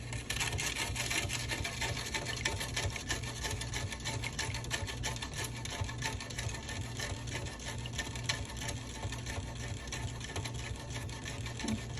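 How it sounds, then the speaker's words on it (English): A spoon stirring sugar in a cup to dissolve it makes a fast, steady, rhythmic scraping and clinking that runs continuously at close range throughout. "Try to stir the sugar so that it dissolves all the way."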